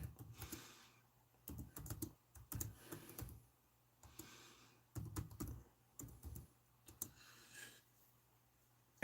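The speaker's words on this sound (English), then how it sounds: "I'm going to start typing." Computer keyboard typing during a live auction, quiet bursts of rapid key clicks in short runs separated by pauses, close and faint with no talking.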